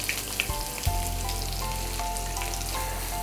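Chopped onion hits hot oil in a pan already holding toasted cumin and sizzles loudly and steadily, with a few soft stirring clatters near the start and no talking.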